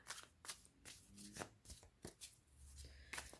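Tarot cards riffled and shuffled in quick bursts, a crisp flutter repeating several times with short pauses, close and fairly quiet.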